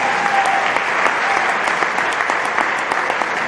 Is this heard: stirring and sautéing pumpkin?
no